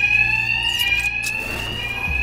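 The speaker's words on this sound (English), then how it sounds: "these thugs can't hear a thing over the alarm" An alarm rings in the Batman: Arkham Knight video game, a loud, continuous high-pitched electronic tone that sounds nonstop over a low background hum and some clatter.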